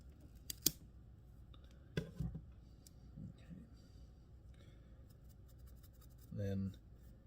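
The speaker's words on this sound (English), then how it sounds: "some larger scissors." Larger scissors snip while a Buford fly is being tied, a few faint sharp clicks and a brief scraping cut under quiet talk.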